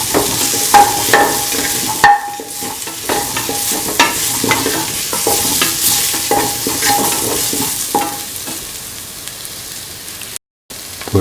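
A potato chipotle mixture sizzles loudly in a hot pan as a spoon stirs it continuously, with scraping strokes and a sharp knock near the start; close and busy throughout, no voices, cutting out briefly near the end.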